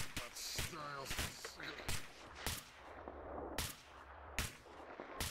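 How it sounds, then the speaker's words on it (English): Repeated gunshots ring out in S.T.A.L.K.E.R., sharp close cracks landing at irregular intervals over a steady ambient rumble, with a voice talking in between. "Oh, another guy shooting at me."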